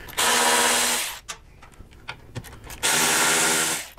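Two bursts of a power driver with a Torx 40 bit spin out fuel tank bolts on a Milwaukee-Eight motorcycle, loud close whirring separated by a pause of small clicks and handling noises.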